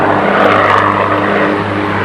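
A turboprop Commander airplane flies at an airshow, its engines and propellers giving a loud, steady droning roar with a constant low hum, close and continuous throughout.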